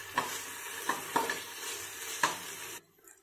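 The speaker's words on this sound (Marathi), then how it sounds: "कांदा आपल्याला परतून घ्यायचा आहे।" Chopped onion sautéing in a pan with ginger-garlic paste, a soft continuous sizzle broken by four crisp spatula scrapes, near and steady, cutting off abruptly to near silence.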